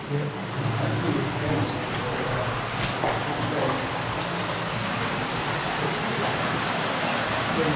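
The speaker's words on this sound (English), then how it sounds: "I can hear water flushing out." Water rushes in a steady, broad roar like a strong flow echoing through an enclosed space of a lead mine shaft, with faint voices under it.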